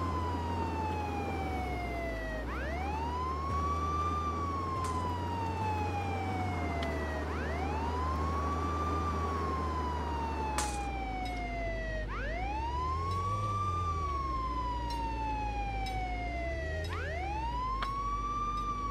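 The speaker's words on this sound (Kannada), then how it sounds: "ಸೈರನ್ ಹಚ್ಚಿದ್ರೆ ಹೆಂಗ್ ಹೋಗ್ತಾರ ನೋಡ್ರಿ" Police siren in the video game Contraband Police, a wailing tone sweeping up and down in repeated long cycles, steady and moderately loud over a low engine drone, with no talking.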